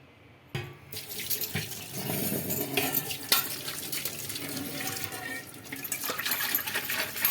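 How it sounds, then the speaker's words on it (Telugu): Greasy steel container lids are washed under a running kitchen tap, with water gushing into the sink and occasional metallic clinks and rubbing as the lids are scrubbed nearby. "ఇంకా ఇప్పుడైతే మూతలు అయితే కడుగుతున్నానండి"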